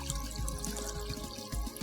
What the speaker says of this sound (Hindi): ये हमने पानी डाल दिया इसके अंदर।